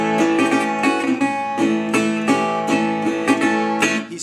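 A country blues guitar lick plays as a steady run of rhythmic plucked strums and notes, close and bright, with no voices.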